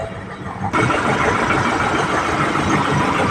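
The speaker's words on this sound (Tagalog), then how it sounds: "sobrang yanig ng makina, no? Yun. Lakas ng vibration niya." A Ford Ranger engine idles roughly with heavy vibration from a cylinder 4 injector fault, a steady loud rumbling drone that starts abruptly and continues without a break.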